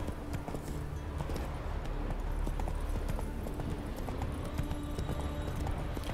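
Horse hooves gallop steadily in The Witcher 3, a continuous rapid clip-clop of a running mount over a dense outdoor ambience, fairly close and unbroken throughout with no talking.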